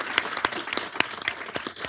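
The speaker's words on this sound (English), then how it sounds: "Let's give a round of applause to this excellent panel." A small audience at a border security symposium claps for a panel, giving sparse, uneven individual claps at moderate distance, fairly quiet.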